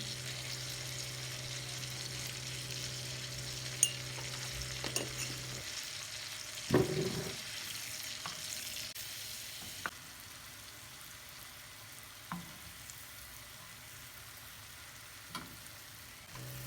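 Oil sizzles steadily in a pan as dried mint is stirred in, with occasional clinks of a utensil; the sizzle drops away partway through.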